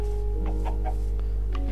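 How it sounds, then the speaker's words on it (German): A few short clucks from a Minecraft chicken, spaced out over a steady low hum and background music. "Ich habe doch Huhn gehört."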